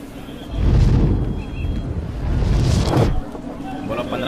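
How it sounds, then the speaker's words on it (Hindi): A booming explosion sound effect in a Hindi dubbed South Indian film, two heavy rumbling surges that swell and fade, loud and close, with talking heard faintly around them. "ट्रिगर दबाने पे धमाका कहाँ होगा"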